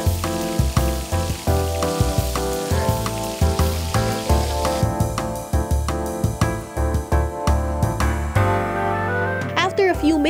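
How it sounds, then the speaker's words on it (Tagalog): Salt-and-pepper fish fillet coated in cornstarch frying in hot oil, a loud, dense crackling sizzle with sharp pops throughout, heard close up alone. "Saka ipiprito."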